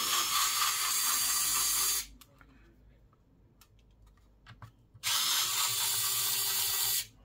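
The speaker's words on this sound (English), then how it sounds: "So let's get this screw out." A screw is driven out of an Asus X555L laptop with an electric screwdriver, heard as two loud, close bursts of high whirring motor noise, with quiet small clicks and handling sounds in the pause between them.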